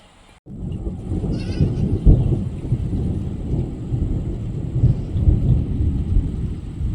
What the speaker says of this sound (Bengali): ওদিক দিয়ে শাঁ শাঁ করে বৃষ্টি আসছে।